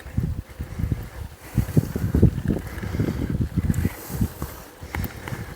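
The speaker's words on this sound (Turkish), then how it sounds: "Küfür küfür de esiyor." Wind blowing across an open hillside in Cappadocia, near Güzelyurt and the Sivrihisar fortress, heard as steady gusting rumble buffeting the microphone, loud and close.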